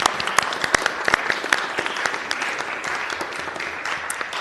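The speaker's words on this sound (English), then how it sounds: "Let's give him another round of applause." Applause in a Board of Supervisors meeting chamber for an honoree, a room of people clapping with distinct sharp individual claps standing out, steady throughout.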